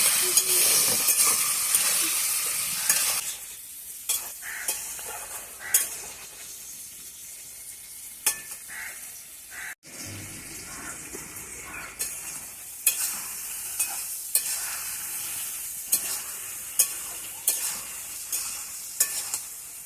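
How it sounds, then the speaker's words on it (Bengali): Turmeric, salt and sugar coated flat beans fry in a pan, opening with a loud hiss that settles into quieter sizzling punctuated by repeated sharp stirring clinks and scrapes, close up with no speech. "শিমগুলো খুব ভালো করে আগে ভেজে নেব"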